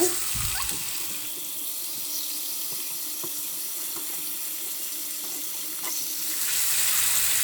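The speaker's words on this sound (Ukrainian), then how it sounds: "Смажу на вечерю" A steady, close hiss of sausage frying fills the clip, with occasional small pops and crackles from the pan and no one speaking.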